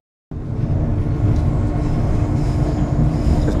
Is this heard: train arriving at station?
yes